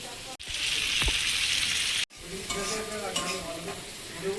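Ginger, garlic paste, turmeric and chopped tomato frying for a mutton curry, a steady loud sizzle with stirring scrapes and a couple of brief breaks, plus faint background voices.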